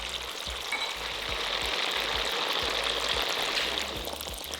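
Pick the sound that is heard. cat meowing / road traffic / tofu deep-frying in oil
tofu deep-frying in oil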